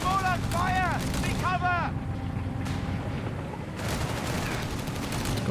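Dense gunfire and explosions from the real-time strategy game Company of Heroes 3, a loud continuous barrage in a 1v1 match with tank and anti-tank guns, dense and sustained throughout with a brief lull near the middle.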